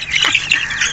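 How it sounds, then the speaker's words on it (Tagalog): Healthy Brahma chicks, including Light, Gold Partridge, Buff and Splash Salmon types, chirp and peep in a close, busy chorus of high, overlapping calls. "ito po yung ating mga sisiyo. Yan, very healthy po silang lahat."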